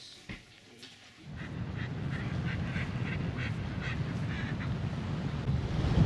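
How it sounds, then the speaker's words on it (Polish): Arctic terns call by the sea on the Shetland Islands, a string of repeated harsh cries over a constant rush of wind and surf that grows louder toward the end. "To są rybitwy popielate."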